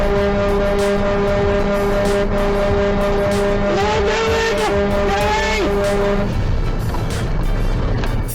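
An 80,000-pound truck with failed brakes roars along the road, a loud sustained engine drone with shifting whines and squeal-like tones that fade into broadband rumble.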